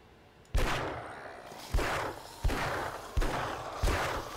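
Five spaced gunshots in the survival video game 7 Days To Die, each a sharp heavy blast with a short decaying tail, fired at an uneven, deliberate pace.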